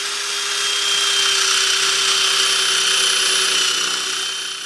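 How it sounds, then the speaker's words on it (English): Power drill working on a rusty old nut on a Ferguson tractor axle: a loud, steady high-pitched whine that holds for several seconds without a break. "get the drill out"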